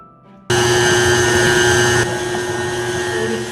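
An electric mixer whirs loudly and steadily as it blends eggless rich cake batter with pumpkin preserve, starting abruptly after a brief quiet moment and then running at a slightly lower pitch.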